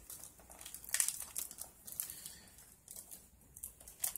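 Plastic packaging crinkling as a wrapped Christmas gift DVD is opened: soft, close crackling and rustling in short irregular bursts, fairly quiet, with no speech.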